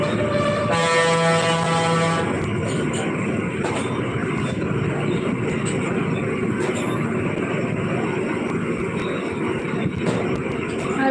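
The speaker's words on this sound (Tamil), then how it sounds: "ஒரே வண்டி சவுண்டு" Loud, continuous roar of passing road traffic, opening with a long blaring horn blast and followed by a dense wash of engine and tire noise with occasional faint horn toots.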